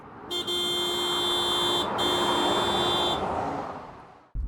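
A passing car's horn sounds in a long, loud sustained blast with a brief break, honked in tribute by drivers at a roadside memorial, over steady traffic rush that fades before a sharp thump at the end.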